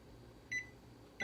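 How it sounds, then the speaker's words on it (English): A kitchen oven timer is set for baking peanut butter Nutella cookies, giving two short electronic beeps about 0.7 seconds apart, close and clear over quiet room hum. "So we're gonna set the timer for"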